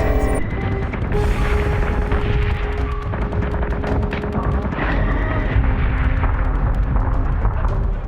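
Space battle weapons fire in a Battlestar Galactica story, a dense, continuous barrage of booming cannon shots and explosions, loud and sustained with rumbling low end, no clear gaps between blasts.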